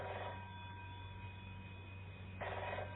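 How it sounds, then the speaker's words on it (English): A telephone rings in a lo-fi radio comedy recording, with a short ring burst at the start and another near the end over a steady mains hum. "It's going on ringing. Well, give it 2 more rings."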